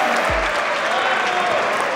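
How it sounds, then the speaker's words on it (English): A squash crowd breaks into lively applause after a shot, dense clapping filling the whole moment, with a brief voice at the start. "Crowd loving that."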